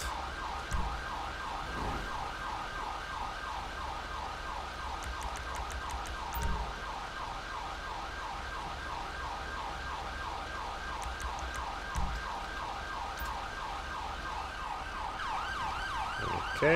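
An ambulance siren wails in a steady, repeating yelp through traffic in the GTA 5 video game, heard at a moderate distance over a low engine rumble with occasional faint clicks, no voices.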